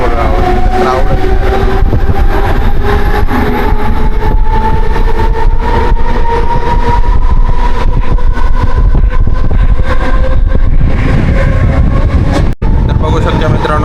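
A Mumbai city local train pulling in, a loud, continuous rumble and rising hum of motors and wheels on rails, close by and filling the whole stretch, with a short sharp break near the end.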